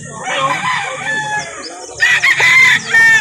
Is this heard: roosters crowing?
yes